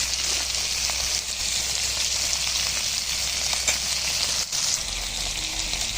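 Small puti fish frying in hot oil with dried red chillies and black mustard seeds, cooked on a clay stove, giving a steady, close, loud sizzle and crackle that runs unbroken throughout, no voices.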